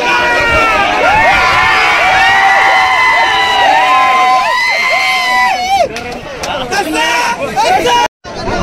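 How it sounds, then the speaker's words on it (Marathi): A loud crowd cheers and shouts continuously at a bullock cart race, with whistles and excited voices, dropping briefly before rising again. "फुल जल्लोष जल्लोष चालू आहे."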